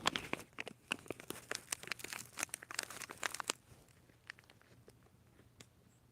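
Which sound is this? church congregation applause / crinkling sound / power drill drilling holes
crinkling sound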